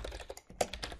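Someone types a telnet command on a computer keyboard to reach a network router: a quick, close run of sharp key clicks with uneven gaps, lasting about a second with no talking.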